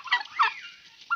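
A single turkey hen gives a few short, clucking calls, close by, with a brief pause before one last cluck.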